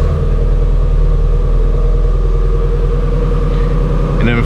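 A Ford Shelby GT350 Mustang fitted with a K&N intake idles loudly and close by after starting, a deep, steady rumbling drone with a low throbbing pulse and a brief higher rattle near the end.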